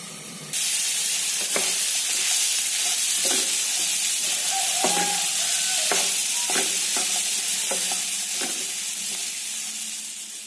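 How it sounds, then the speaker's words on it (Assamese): Loud, steady sizzling of chickpeas frying in a pan, broken by periodic scraping clinks of a spatula stirring. "অলপ সময় ভাজি ল'ম।"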